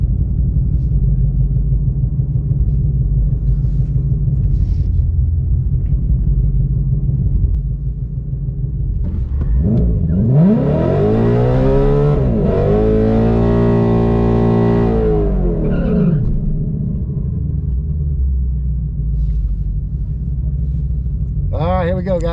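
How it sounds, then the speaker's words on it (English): A 2020 GT idles with a deep rumble in the burnout box, then revs hard in a loud, sweeping surge that climbs, holds and falls back to idle, with a few brief blips after. "Alright, here we go, pulling into the burnout box."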